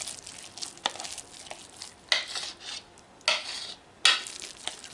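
A spoon scrapes and knocks around a bowl as almond flour is worked into keto pizza dough, giving a few distinct, close stirring clatters with quieter rubbing between them.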